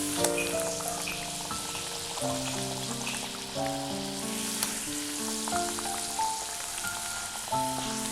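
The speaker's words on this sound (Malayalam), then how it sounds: "ഇത് തിരിച്ചും മറിച്ചൊക്കെ ഇട്ടിട്ട് ഫ്രൈ ചെയ്തെടുക്കണം." Enna pathiri, a flatbread, fries in hot oil with a steady sizzle and crackle, faint under sustained background music.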